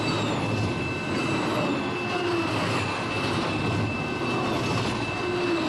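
Amtrak Auto Train hauling superliners and auto racks rolls past at speed, a loud continuous rumble and rush of wheels on rail with a faint high whine, holding steady throughout.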